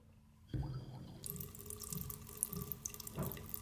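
A faucet with no water pressure is turned on and water sputters and hisses unevenly into a sink, a weak irregular flow with small gurgles and drips.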